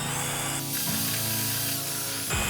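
Pigmented concrete coating is churned in a bucket with a power mixer, a steady loud whirring drone that runs throughout with a brief shift in pitch partway and a clunk near the end.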